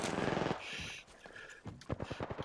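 Rapid automatic gunfire from an Apex Legends ranked match, a dense burst for about half a second, then a pause and a few sharper shots near the end, loud and close.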